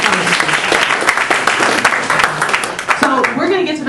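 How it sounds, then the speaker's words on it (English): An audience at a panel event applauds Judy and three candidates, brisk close clapping with distinct individual hand claps over a crowd wash, fading out near the end as a voice begins to speak. "Can we give Judy and our 3 candidates a round of applause?"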